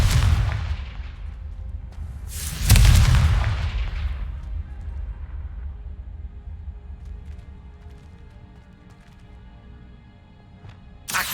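A Confringo blasting spell explodes in Hogwarts Legacy as one loud, booming blast with a long rumbling decay, followed by quieter game ambience and a later faint hit.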